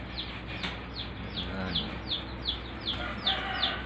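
A hen, a large white and Duroc crossbreed, clucks in a steady series of short calls about every half second, close and moderately loud, over a busy farmyard background.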